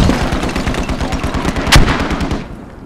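Rapid automatic gunfire from a tactical multiplayer squad video game: loud, evenly spaced shots in a continuous burst, with one sharper crack near the end before the firing fades.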